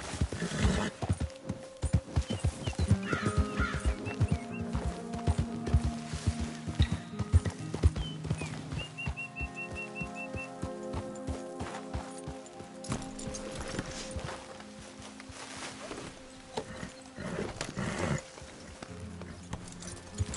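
Horse hooves clip-clop steadily through a Red Dead Redemption 2 game scene, a regular rhythm with an occasional whinny, set against game music and ambient sound; a voice briefly urges the horse on.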